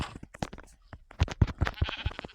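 Several sheep bleat in a video game in quick succession, close and fairly loud, with short overlapping calls and game-like clicks between them.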